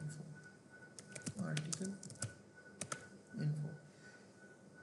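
Short bursts of computer keyboard typing, some keystrokes clicking distinctly, play under and between a man's quiet speech in an indoor setting.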